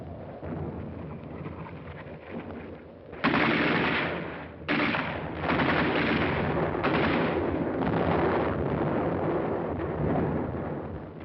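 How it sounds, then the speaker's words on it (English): Automatic weapons fire from pillboxes in a wartime battle film, with loud, dense bursts and booms. They start abruptly after a quieter rumble and continue in sustained waves with brief breaks. "they encountered mines and automatic fire from pillboxes"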